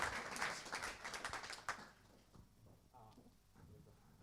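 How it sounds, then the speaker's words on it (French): Brief applause from a conference audience at a business event, a burst of clapping that fades after about two seconds into quieter room noise with some murmuring. "Sous vos applaudissements."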